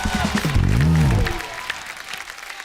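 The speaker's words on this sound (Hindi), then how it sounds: "जोरदार तालियां एक बार संजू सर के लिए।" Applause from a studio audience at a live comedy talk show rises under a loud voice and a musical swell, then continues as a softer wash of clapping.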